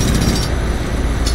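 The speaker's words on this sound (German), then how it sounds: "Baustelle." At a construction site in the Euro Truck Simulator 2 video game, a jackhammer pounds in loud, rapid, continuous rattling, close by and dense across the whole stretch with no talking.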